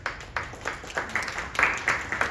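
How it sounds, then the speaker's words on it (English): Audience applause for the hub team at a community event on generative AI and data science: a faint, uneven patter of hand claps rising and falling in short bursts, with no talking. "give them a round of applause"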